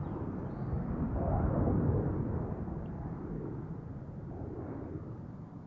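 An IndiGo airliner departing Amsterdam Schiphol on a windy day makes a steady, broad, distant jet roar that swells slightly and then holds for several seconds, with no voices over it.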